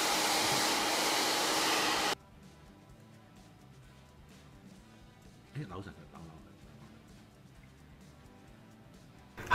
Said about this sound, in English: When the hair dryer is turned on,